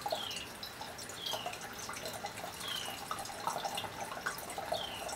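Water poured into a set of connected puzzle tanks, a continuous trickling stream with repeated bright drips and splashes, close and steady for several seconds, no talk.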